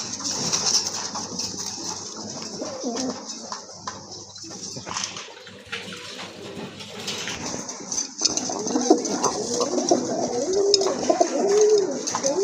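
Pigeons coo continuously at a bird seller's stall, soft throaty calls layered over one another, close and steady, with a constant bright background hiss and no talking.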